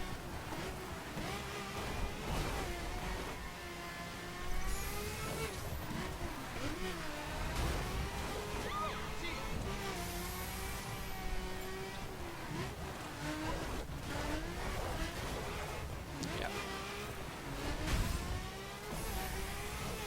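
A Ferrari F12 Berlinetta V12 in The Crew racing game revs and accelerates hard through traffic, its engine note climbing and dropping through repeated gear changes, steady and close for the whole stretch.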